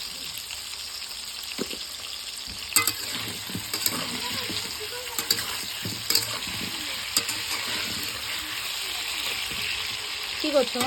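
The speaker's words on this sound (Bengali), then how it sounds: "মাংসের আলু ভাজবো তারপরে মাছ ভাজবো শুধুমাত্র নুন দিয়ে ভাজবো হালকা করে" Potatoes for a duck meat curry fry lightly salted in oil on a clay stove, a steady hiss and sizzle with occasional clinks of stirring, and a brief spoken exchange nearby.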